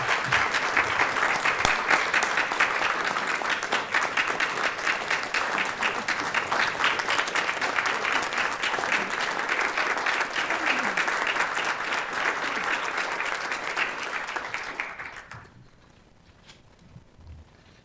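A long, dense round of applause from a council meeting crowd, steady and full for about fifteen seconds before tapering off quickly into quiet room tone.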